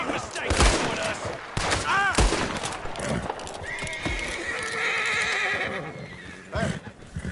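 A horse whinnies loudly amid rapid bursts of gunfire and hoof clatter in the video game Red Dead Redemption 2, with a shrill tone rising over the chaotic action.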